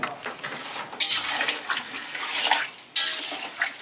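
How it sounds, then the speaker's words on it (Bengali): Water splashes and pours into meat cooking in a pot, a steady wet rush with a few clinks of utensils against metal, close by and with no talking. "হালকা একটু জল দিলাম, খুব বেশি না।"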